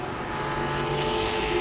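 Grand stock race cars at Langley Speedway make a loud, steady engine roar with layered exhaust tones as the pack runs together close by, with no pause and no talking.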